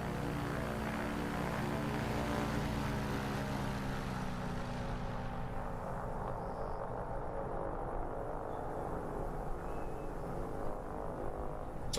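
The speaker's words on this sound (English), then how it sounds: "Love the sound of the plane" A small propeller plane at a short-takeoff-and-landing contest in Microsoft Flight Simulator drones steadily, its engine whine and buzzing harmonics sustained throughout, then slowly fading and thinning as it flies away, with no talk over it.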